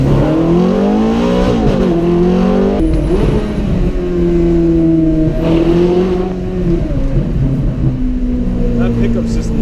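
Naturally aspirated engine of a 2007 Ferrari F430 Spider revving hard as the car accelerates, a loud, rising wail that shifts pitch through gear changes, with a voice talking over it at points.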